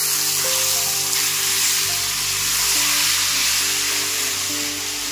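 Boiled taro leaves hit hot oil with browned crushed garlic, giving a loud, dense, continuous sizzle close by with no talking.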